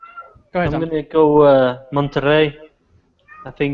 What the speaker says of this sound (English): That's my cat. She wants to go outside.